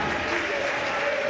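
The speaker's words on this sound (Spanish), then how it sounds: "Aplaude el público" Spectators at a women's handball league match applauding a goalkeeper's save, a brief wash of clapping from the crowd under a commentator's voice.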